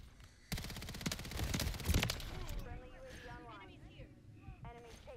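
Dense burst of rapid SMG hip-fire in a video game, a loud sustained rattle of shots that starts abruptly and then fades into softer game effects, with a voice talking over it.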